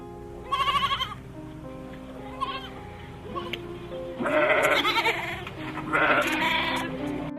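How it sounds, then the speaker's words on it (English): A baby goat bleats repeatedly in short wavering cries, a quick burst early on, a fainter one, then two longer, louder bleats near the end, close and clear over light background music. "Baby goat."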